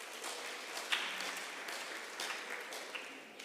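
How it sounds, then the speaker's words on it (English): An audience at a youth seminar gives itself a hand, with soft, fairly distant clapping that stays steady throughout and carries a few sharper claps standing out from the rest. "So you can give yourself a hand of applause."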